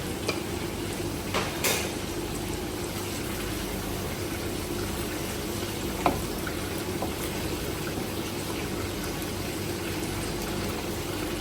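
Spices, including turmeric, fish masala and coriander powder, sizzle steadily in a pan for an Arabic fish curry, a continuous close hiss with occasional soft scrapes and clinks of stirring.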